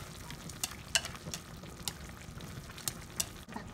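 Pork belly being stirred in a pan as it cooks, a faint low sizzle with a series of light, evenly spaced scraping clicks.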